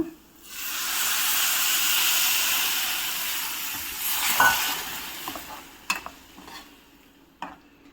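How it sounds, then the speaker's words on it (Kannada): Tamarind juice poured into simmering fenugreek gojju in a pan, giving a steady seething sizzle and hiss for several seconds, then fading into a few scattered stirring clicks and light clatters, with no talking. "ಹುಣಸೆ ಹಣ್ಣಿನ ರಸ ತೊಗೊಂಡಿದ್ದೀನಿ, ಇದು ಹಾಕ್ಕೊತೀನಿ"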